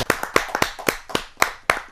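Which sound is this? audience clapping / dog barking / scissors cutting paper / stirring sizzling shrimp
audience clapping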